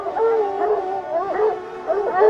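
A hound bays and howls in drawn-out, wavering cries at a Saint Hubert blessing of hunting hounds, repeated several times, fairly close and clear with little talk.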